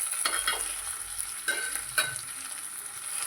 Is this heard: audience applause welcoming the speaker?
no